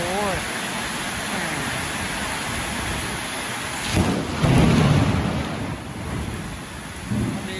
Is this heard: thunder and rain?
yes